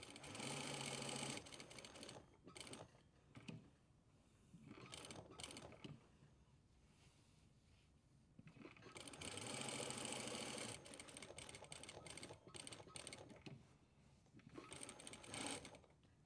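A sewing machine stitches a flap and spade pocket in several bursts of rapid mechanical whirring, stopping and restarting with short quiet gaps between runs.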